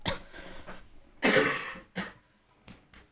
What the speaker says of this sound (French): Je tousse mais j'ai plus d'air